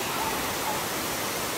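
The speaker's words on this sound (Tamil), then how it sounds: "இதான் ஃபால்ஸு" A waterfall in Kerala gives a steady, close, full rushing roar of falling water that stays even for the whole short stretch. No talking.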